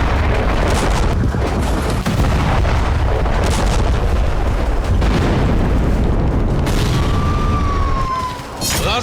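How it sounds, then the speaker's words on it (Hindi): Heavy blasts in Gaza set off by Israeli military robots sent up to buildings: dense, continuous booming rumble with repeated thuds, then a brief whistling tone near the end, with no clear talk. "गाजा में इन धमाकों की वजह है इजराइल के वो रोबोट जिन्हें बेखौफ होकर इमारतों तक भेजा जा रहा है।"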